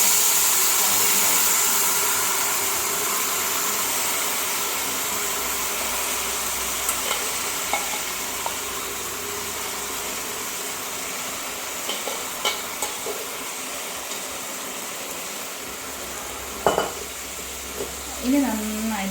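Chicken frying with onions in a pan for chicken curry, a steady sizzle with occasional scraping stirs of a utensil near the end.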